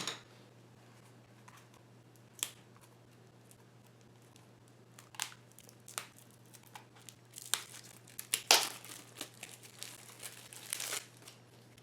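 Plastic wrapping on a pack of building cards for the board game Empires of Zidal crinkles and tears in close, sporadic bursts as it is gently opened, growing busier toward the end over a faint steady hum.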